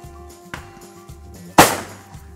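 A single loud shotgun blast rings out at a sporting clays range, a sharp broadband crack with a short decaying tail, set against a low background hum outdoors.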